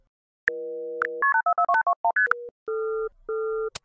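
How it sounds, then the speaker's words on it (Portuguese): A telephone call placed inside a Minecraft game: steady dial tones, a quick run of keypad dialing beeps, then repeated ringback tones, clear and close with no talking. "Já sei, vou ligar pro Pedro."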